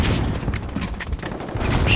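Gunfire in the shooter game Modern Warfare during a Ground War match, a short burst of sharp, layered shots and muffled battlefield noise, fairly loud and close, with no clear talk.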